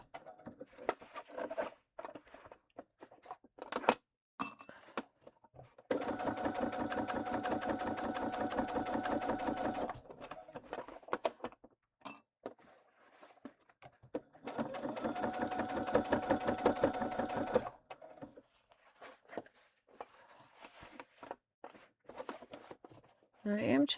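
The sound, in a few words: sewing machine stitching the bottom seam of a tote bag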